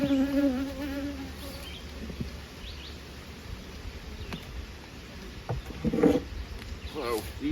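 Steady, close buzzing of many honey bees fills the background around nucleus hives full of field bees, with a few louder passes of individual insects near the end.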